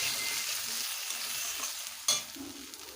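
Masala with turmeric and salt fries in a pan for mutton kosha, a steady broadband sizzle with a sharp spatula scrape near the end, close and fairly loud, no voices.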